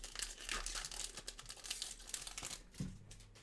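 Faint crinkling and tearing of plastic wrap as Pokémon Scarlet and Violet card boxes are unwrapped, a quiet run of crackles and rustles with a few sharper rips.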